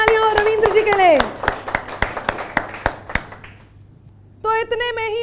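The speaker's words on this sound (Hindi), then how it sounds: "जोरदार तालियां हो रविंद्र जी के लिए" An audience claps loudly for a poet at a Hindi political poetry gathering, with a burst of sharp, fairly close claps that fades away, and a voice speaking over the start and again at the end.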